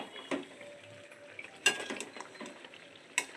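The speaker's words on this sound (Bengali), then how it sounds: "চিকেনটা কষাচ্ছি।" Chicken is stir-fried in a pan with a soft, faint sizzle, while a spatula scrapes and clinks against the metal in a few sharp strokes.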